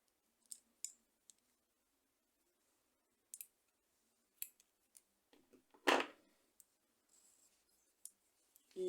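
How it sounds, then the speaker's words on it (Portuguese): Scissors cut crochet yarn in a quiet room, with scattered faint snips and clicks and one louder, longer snipping sound partway through. "Aqui eu posso cortar o fio."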